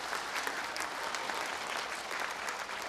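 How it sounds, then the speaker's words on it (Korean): A seminar audience at a Jogye Order Buddhist reconciliation event applauds the head monk with steady, dense clapping that fills the hall, close and loud, with no voices over it. "총무원장 큰 스님께 다시 한번 큰 박수 부탁드리겠습니다"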